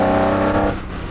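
A 1958-era Ferrari 250 Testa Rossa engine under way, a loud close harmonic roar held steady, then easing off as the driver lifts.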